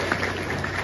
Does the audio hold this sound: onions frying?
no